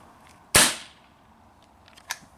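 A CZ 75 SP-01 Shadow pistol fires a single loud, sharp shot that rings off briefly, followed by a fainter metallic click.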